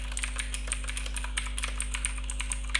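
Steady, quick typing of HTML code on a computer keyboard, crisp close key clicks over a constant low electrical hum.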